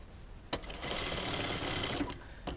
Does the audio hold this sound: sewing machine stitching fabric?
yes